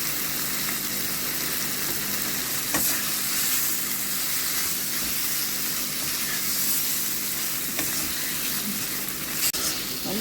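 Chicken sautéing in oil in a home kitchen pan, a steady close sizzle and crackle with occasional stirring scrapes, no talking.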